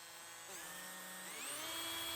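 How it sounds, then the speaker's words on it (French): Drill boring through four stacked aluminium pieces at once, a faint steady whine rising gradually in pitch and loudness. "Je perce les 4 éléments ensemble."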